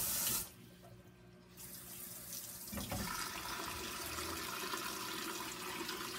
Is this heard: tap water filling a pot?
yes